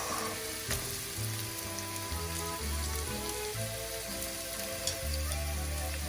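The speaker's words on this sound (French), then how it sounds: "On baisse un peu le feu et on vient y mettre nos oignons coupés en gros morceaux" Onions cut into large chunks frying in a pan over lowered heat for pineapple chicken: a quiet, continuous crackling sizzle with a few sharper pops, under soft background music.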